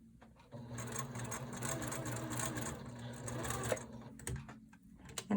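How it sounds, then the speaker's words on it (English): A sewing machine runs in a steady whirring burst, stitching a small stitch around a fabric vine appliquéd on a quilt block, then stops with a few clicks and short restarts near the end. "I am going to stitch around the vine on the outside with a small stitch."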